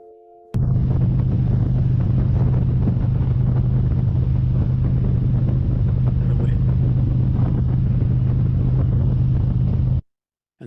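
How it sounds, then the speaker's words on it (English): Motorcycle engine isolated on its own separated audio track, a loud steady droning hum with a low tonal rumble, running continuously for about ten seconds and cutting off abruptly. "So now what we'll hear first is just the motorcycle."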